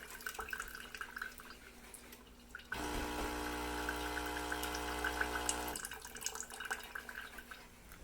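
An Instant Pod coffee maker pumps water through during descaling, a steady mechanical hum with a stream of water running into a jar for about three seconds, set between quieter drips and trickles in a kitchen.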